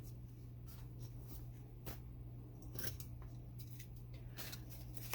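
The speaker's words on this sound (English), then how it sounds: "I'm going to cut right here." Scissors snip through paper for a handmade keepsake folder, a few quiet crisp cuts spaced irregularly over a steady low hum.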